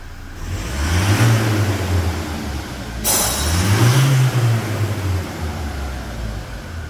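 A remapped Toyota Hilux 2.8 pickup engine revs hard through its exhaust twice, each rise swelling to a deep roar before dropping back to a low rumble; no talking.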